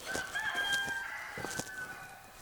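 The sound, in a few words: roosters crowing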